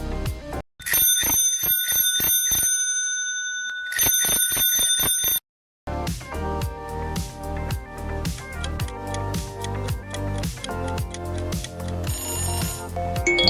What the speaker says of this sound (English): This is a bicycle bell ringing.